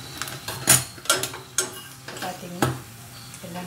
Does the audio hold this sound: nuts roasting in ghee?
yes